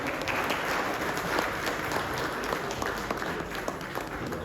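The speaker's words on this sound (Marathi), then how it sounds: "त्यांचं जोरदार टाळी आपण स्वागत करूया" Audience applause welcoming actor Jayant Wadkar at a Mumbai Marathi Patrakar Sangh event at Azad Maidan, Mumbai, steady close clapping from a crowd throughout with individual sharp claps standing out.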